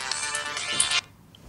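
A mobile phone ringtone chimes close by for about a second, a bright electronic tone that cuts off abruptly, followed by near silence.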